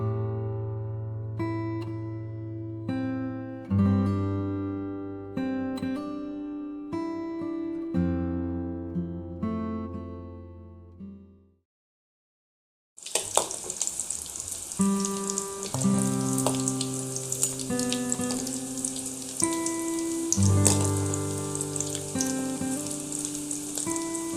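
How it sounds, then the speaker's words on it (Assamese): Pakoras frying in hot oil, a loud, steady crackling sizzle that bursts in after a stretch of soft melodic music and a short silence, continuing to the end with faint tones underneath. "আমাৰ তেলখিনি গৰম হৈছে এতিয়া মই পকৰা কিখন ভাজি লম"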